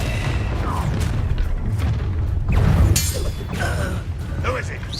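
A fire spell cast in a wizarding action game, a deep booming whoosh with crackling bursts and a brief shattering hit, layered over rumbling combat effects and voices.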